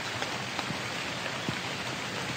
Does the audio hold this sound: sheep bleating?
no